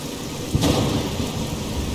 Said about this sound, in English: This dramatic burst of thunder.